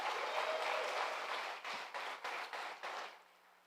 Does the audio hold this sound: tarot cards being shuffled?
no